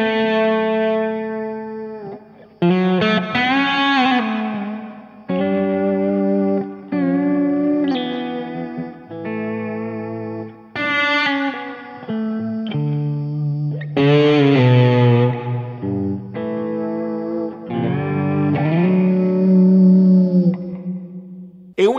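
Electric guitar played by a professional stage guitarist through ambient effects, sustained distorted notes and chords with chorus and echo tails, phrases separated by short gaps, loud and alone without talk.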